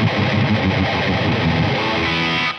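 A heavily distorted electric guitar plays a dense, saturated run, loud and continuous throughout, then cuts off abruptly at the end.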